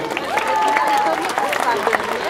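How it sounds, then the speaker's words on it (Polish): Broad, steady crowd applause at a town festival in Bytów, Poland, with a babble of voices and a tune running through it, fairly loud and continuous for a couple of seconds. "Jeszcze raz wielkie brawa dla nich."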